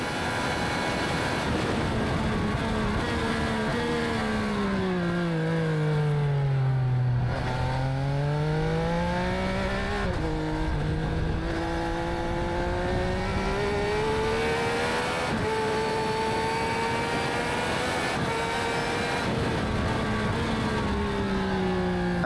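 A Triumph Speed Triple 1200 RR motorcycle fitted with a central muffler runs its engine loud and steady, the exhaust note sweeping down and back up in pitch several times as the revs change, with no talk.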